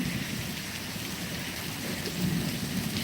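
Heavy rain pours down steadily, a dense, loud hiss with no pauses from start to finish.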